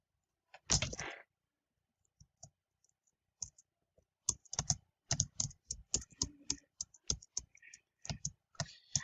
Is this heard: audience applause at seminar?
no